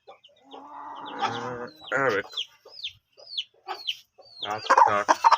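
A rooster clucks and calls in short, separate bursts near the listener, loud harmonic squawks with brief gaps, a fighting rooster at a household with farm animals.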